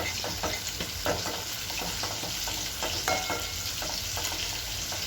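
Prawn masala with red chilli powder is stirred in a hot pan, a spoon scraping in a loose repeating rhythm over a continuous loud sizzle, close up with no voices.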